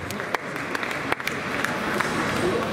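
Crowd applause at a tennis match during the Stockholm Open qualifying, a steady wash of clapping with scattered sharper claps, sustained throughout.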